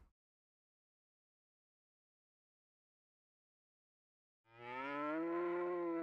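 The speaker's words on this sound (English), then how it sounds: "That's a cow." A cow in the game Breath of Fire 3 gives a single loud, close moo after a long stretch of near silence.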